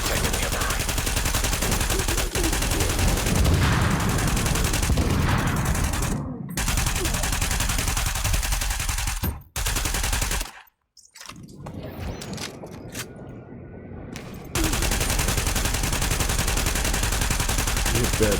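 Rapid automatic gunfire from The Division crackles in long, dense bursts, broken by short silent gaps and a quieter stretch before the firing resumes at full loudness.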